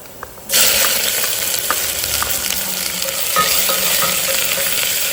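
Onions dropped into a pan with garlic paste, a sudden burst of loud sizzling that settles into steady close frying with faint stirring scrapes.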